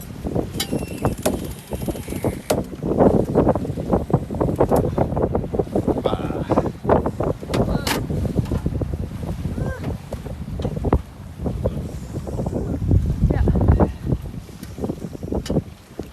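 A sailboat under way in open wind, with steady broadband wind and water rush buffeting the microphone for the full stretch, occasional creaks and knocks from the boat, and people talking and cheering over it.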